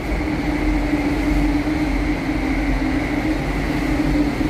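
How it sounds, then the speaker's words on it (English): A train passing directly overhead in Tokyo rumbles loudly and steadily, with a constant low drone and a sustained tonal whine throughout. "I always forget how loud the trains are. It's a train right above us."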